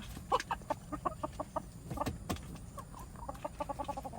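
Chickens clucking on a farm, a busy run of short clucks and squawks close by with a few louder calls standing out over a low rustling background.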